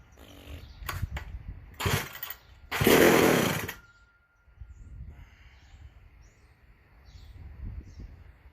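A McCulloch SP125 chainsaw is being fine-tuned, its engine firing in short, loud bursts and revs that cut out between them, heard up close over a quiet outdoor background.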